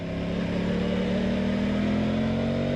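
An Aprilia Tuono 660 Factory motorcycle engine runs with a steady, close, loud drone that rises slightly in pitch throughout, as if under gentle acceleration on a winter road.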